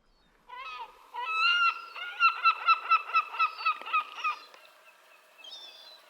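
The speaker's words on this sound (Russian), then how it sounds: "И чайки уже в рядок ждут. Здесь их особо много," Gulls with chicks, lined up along a shore by a cape, give a rapid run of loud, close, rhythmic squawking calls that rise into a pulsing burst and then trail off into softer cries.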